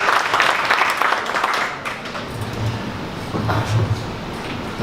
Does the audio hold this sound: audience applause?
yes